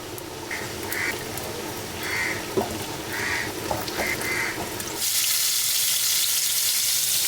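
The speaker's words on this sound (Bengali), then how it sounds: "চুলায় বেগুন আর পটলগুলো ভাজবো তেল দিয়ে দিচ্ছি ফ্রাই প্যানে" Eggplant and pointed gourd frying in oil in a frying pan: a moderate sizzle with a few clinks and faint tonal chirps gives way to a loud, steady frying hiss for the last couple of seconds.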